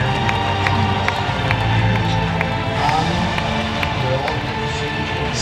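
A ballroom audience at a World Cup 2018 dance exhibition applauds and cheers steadily, a loud, continuous wash of clapping and crowd noise with voices mixed in.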